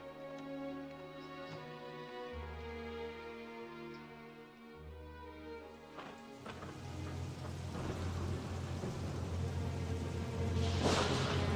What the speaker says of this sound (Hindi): बाहर मत खड़े रहो, बारिश हो रही है